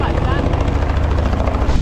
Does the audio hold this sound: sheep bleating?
no